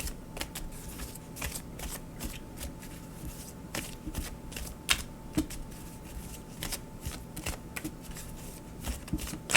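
Tarot cards are shuffled close up in quick crisp riffles and soft slaps, irregular bursts of papery clicks repeating over several seconds at low volume, with no voices.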